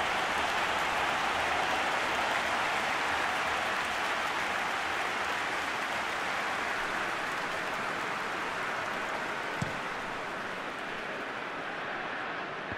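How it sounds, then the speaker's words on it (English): Rain falling in a PES 2021 football video game match between Stellenbosch and Kaizer Chiefs, a steady dense hiss with faint crowd noise beneath and one brief sharp knock near the end. "Just starting to get the first signs of rain here."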